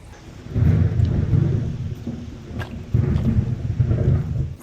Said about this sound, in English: We can hear distant thunder.